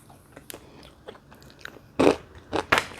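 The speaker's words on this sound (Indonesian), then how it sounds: "Kacangnya renyah." Crunchy peanut snack made with coconut and egg is bitten and chewed up close, with a few sharp, loud crunches after quieter soft chewing clicks.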